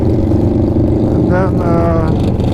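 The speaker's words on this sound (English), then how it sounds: "then 5 bikes pass by making a lot of noise." Loud motorcycle engines roar past close by during a ride in Dubai near a camping area, with a rising whine over steady rumble and wind noise.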